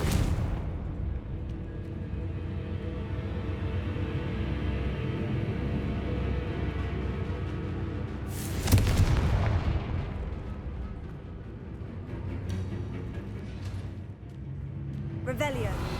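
Confringo blasting spell from Hogwarts Legacy: a dense, continuous low rumble of explosive impacts, with one loud sharp blast burst in the middle and further bangs near the end.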